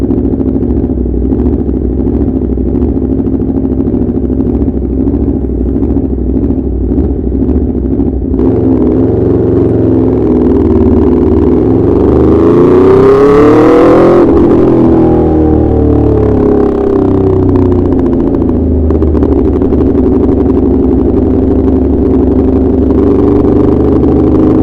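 An Aprilia RSV4 RF superbike (2017) fitted with an SC Project S1 low-position exhaust idles, then blips and revs hard, its engine note rising and falling through several loud, close revs before settling back to a steady idle.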